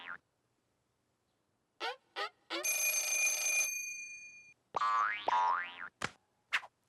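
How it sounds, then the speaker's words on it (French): A cartoon telephone bell rings in one long, bright, sustained burst, preceded by a few short springy boing-like twangs and followed by a cartoon voice and more brief sounds. "tu as entendu cette sonnerie?"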